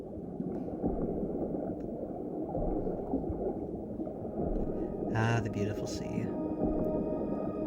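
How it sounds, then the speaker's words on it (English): Humpback whale calls in the underwater world of the Endless Ocean Luminous video game, rising moaning tones over a steady ocean wash, with someone speaking over them. "The iconic humpback whale."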